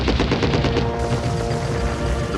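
Rapid rhythmic machine gun fire rattles loudly through a reenacted World War II battle in Normandy 1944, a dense burst of evenly spaced shots blending into continuous gunfire and rumble.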